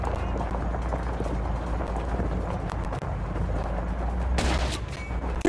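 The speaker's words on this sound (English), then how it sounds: "We're taking sniper fire from all directions." Call of Duty Modern Warfare 2 Remastered gunfire rattles in dense bursts over a busy battle din, with scattered sharp shots and constant background noise, no clear talk.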